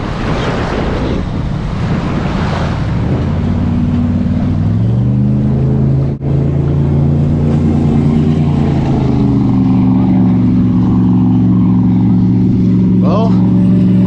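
A ProBoat Recoil 2 Shreddy Edition RC boat runs steadily on open water, its high-pitched motor whine holding and shifting pitch under wind and surf noise, with someone talking at times.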